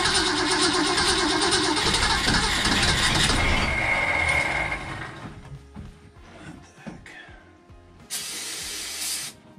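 A Lyman boat's engine, fed from antifreeze during a winterizing flush, cranks and catches with a loud mechanical clatter and spray-like hiss, then drops to a quieter, uneven idle with a few knocks and a final burst of noise.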